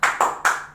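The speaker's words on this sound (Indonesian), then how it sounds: "Nah, kita akan melakukan tepuk semangat." A primary school class does a rhythmic spirit clap, three quick loud claps in a tight burst, close and with no talking.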